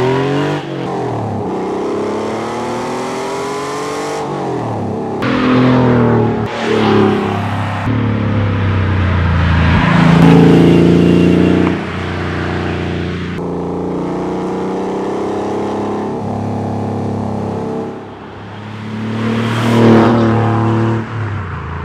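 Air-cooled Porsche 964 flat-six with a Fister aftermarket exhaust, revving hard and pulling through gears on twisty roads; a loud, continuous engine roar that rises and falls with throttle, close and unbroken by talk.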